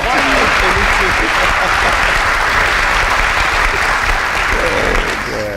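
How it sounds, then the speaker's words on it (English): A studio audience breaks into steady, loud applause that carries on evenly throughout, thinning slightly near the end. "A round of applause."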